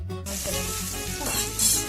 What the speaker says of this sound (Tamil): ஃப்ரை பண்ணி தனியா எடுத்து வச்சுக்கோங்க.